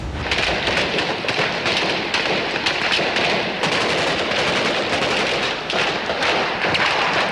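Gunfire during the 1993 shelling near Moscow's television center on Academic Korolev Street: dense, continuous crackling volleys of distant shooting that stay loud with no pauses.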